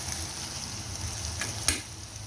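Onion and tomato sauté in a pan with salt and turmeric, a continuous close sizzle with a soft stirring scrape and one sharper clink near the end, no talking.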